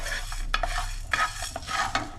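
Whole cardamom, cloves, cinnamon, mace and star anise are dry-roasted in a non-stick pan. Repeated close stirring strokes scrape and rattle the spices in a loose rhythm over a faint sizzle.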